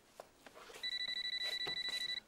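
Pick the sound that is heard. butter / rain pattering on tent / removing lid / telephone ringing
telephone ringing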